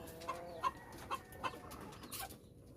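A pet chicken gives soft, short clucks, about five spaced notes over a few seconds, close and fairly quiet against faint background noise, with no talk.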